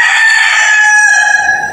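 A gamecock at a game farm in Batangas lets out one loud, close crow, a single drawn-out cock-a-doodle-doo that fades at the end.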